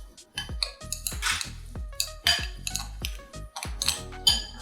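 A spoon clinks and scrapes repeatedly against a metal bowl while stirring panko breadcrumbs, parmesan and olive oil into a crumb topping, sharp close taps in an irregular rhythm with no talking.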